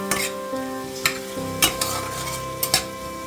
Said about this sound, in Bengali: ঘিয়ের মধ্যে সব ভাজা চলছে এখন